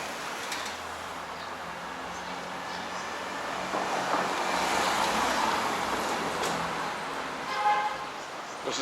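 Road traffic on a street in Ridgewood, Queens rolls past steadily, a swelling whoosh of a passing vehicle rising midway and easing off, with a faint clink near the end.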